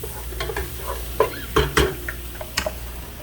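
Scotch bonnet, jalapeño and onion sizzling in a hot pan, stirred with a few sharp scrapes and clinks against the metal over a steady crackle, close and moderately loud.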